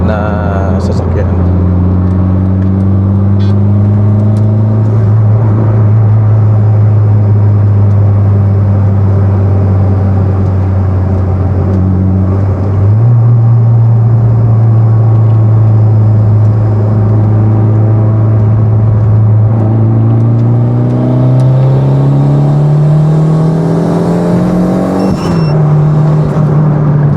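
A turbocharged Honda City pulls hard on an expressway, its engine droning loud and close as the pitch climbs through the gears with a shift partway through, while occupants talk over the cabin noise.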